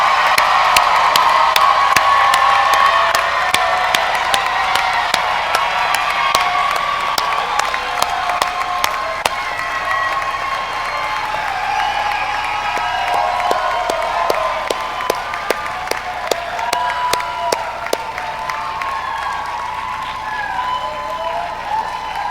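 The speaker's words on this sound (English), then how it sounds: "one more round of applause for your loved ones" An audience at a law school graduation ceremony applauds graduates' loved ones, sustained crowd clapping with scattered cheers and whoops, loud at first then settling into steady applause for the full span.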